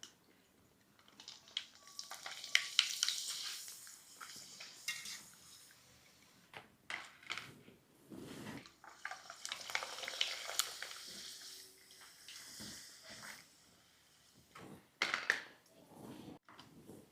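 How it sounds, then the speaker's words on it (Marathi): Sabudana papad frying in hot oil, a soft steady sizzle with bursts of bubbling as pieces puff up, along with occasional clinks of a utensil against the pan, close and fairly quiet. "तेल एकदा आपण चांगलं गरम करून घेतलं ना की पट्टापट ह्या पापड्या तळल्या जातात."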